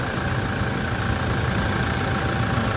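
A Toyota Revo pickup with 266,000 km on it idles steadily, a constant, even engine drone with no revving, heard close up.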